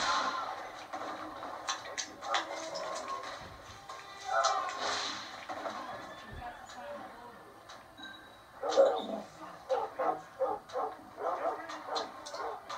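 Several dogs bark in Red Dead Online, sharp repeated yaps and barks at moderate distance, coming in bursts throughout alongside game ambience.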